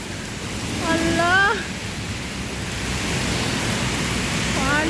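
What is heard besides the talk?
heavy rain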